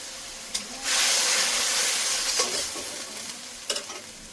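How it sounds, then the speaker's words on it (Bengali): Ground spice paste fries in hot oil with a steady, loud sizzle and hiss, stirred with occasional sharp scrapes and clacks of a spoon against the pan, close up and without talk. "দেখুন মশলাটা ভেজে নিয়েছি, কাঁচা গন্ধ চলে গেছে, তেল বেরিয়ে গেছে।"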